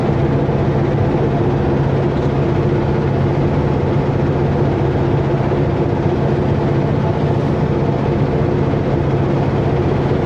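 An overheating semi truck engine idling, a steady low rumbling drone with constant loudness, heard from inside the cab with no talking.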